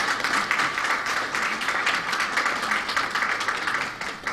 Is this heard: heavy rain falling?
no